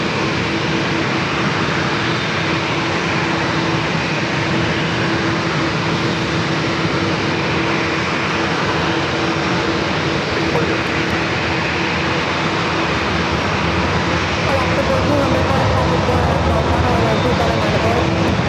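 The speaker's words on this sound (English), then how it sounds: "More than likely have two heavy departures back to back." A heavy jet departs San Diego airport as a steady, loud broadband roar that holds unbroken from start to finish.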